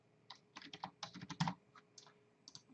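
A username is typed on a computer keyboard, a quick irregular run of a dozen or so crisp key clicks, close and fairly quiet, with no speech.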